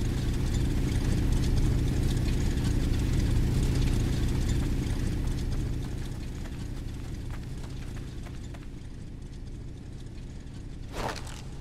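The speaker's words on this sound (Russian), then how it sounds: "Фак, эти двигатели." Steady low droning engine hum from the zombie shooter Arizona Sunshine, dense and continuous throughout, easing slightly in loudness midway, with a brief sharp sweep near the end.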